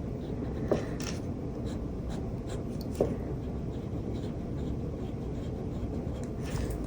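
Fountain pen nib scratching across paper, a faint continuous close-up scritch with a couple of brief louder taps, heard alone over a steady low hum.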